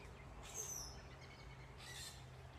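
A very large, noisy flock of white birds flying south overhead, heard as two bursts of high, harsh calls over steady outdoor rumble, the first around half a second in and a second wave near the two-second mark.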